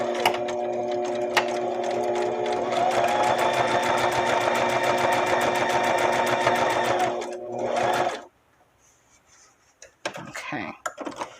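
Sewing machine stitching a seam on a small paper mini envelope for a guest journal, a steady rapid whirring run for about eight seconds that stops abruptly, followed by quiet handling clicks and rustles.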